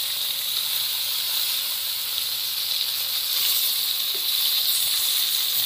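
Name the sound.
rohu fish frying in hot oil in a wok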